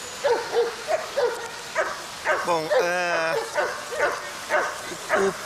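A German shepherd gives a short bark and whine in the middle, close by, while someone talks over most of the recording.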